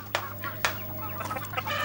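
Free-ranging chickens cluck close by on a poultry farm, several short sharp calls and murmuring clucks over a low steady background hum.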